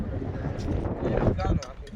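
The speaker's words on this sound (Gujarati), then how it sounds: "પવન ફૂલ છે ને ઠંડી પણ ફૂલ છે" Strong cold wind buffeting a fishing boat at sea, loud rushing gusts against the microphone mixed with engine and water rumble, continuous and close.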